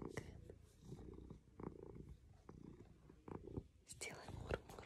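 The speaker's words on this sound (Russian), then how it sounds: "Моя кошка мурлыкает." A pet cat purrs close up as a steady low rumble, partly masked by someone speaking softly and whispering over it.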